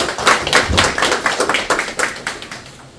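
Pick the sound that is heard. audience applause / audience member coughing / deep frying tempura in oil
audience applause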